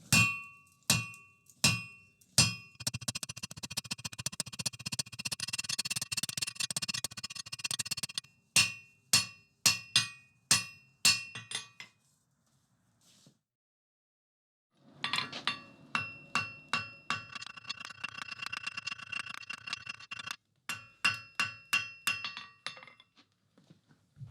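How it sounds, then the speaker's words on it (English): Hammer blows ring on hot steel over an anvil while a taper is drawn out for a fireplace tong, coming in quick rhythmic runs of sharp metallic strikes with bright ringing overtones and short pauses between bursts, with no talking. "So I'll draw out a taper, half on, half off, over the far edge of the anvil."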